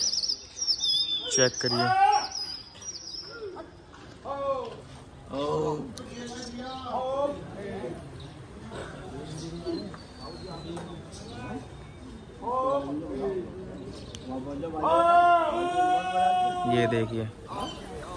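Hyderabadi pigeons in a loft, coos and chirps repeating throughout, with someone talking over the birds.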